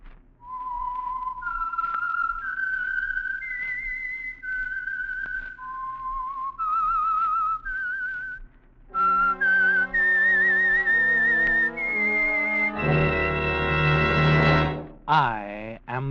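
A whistled theme tune for the old-time radio program The Whistler, a clear solo melodic whistle of sustained notes that gives way to brighter orchestral music.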